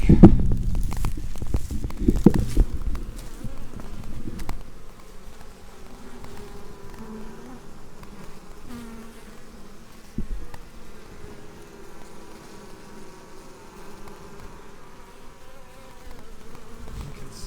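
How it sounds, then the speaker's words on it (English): Honeybees buzz around a hive installed the day before, a steady close hum with louder bursts of wing noise at the start that settle into a continuous drone. "The bees down there are doing a little bit of bridging."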